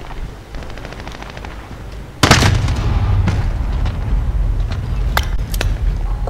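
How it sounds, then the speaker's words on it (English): A precision airstrike in the video game Modern Warfare hits with a sudden loud blast, then rolling explosions and gunfire rumble on continuously, with sharp bangs scattered through the din. "Precision airstrike, ready on your mark."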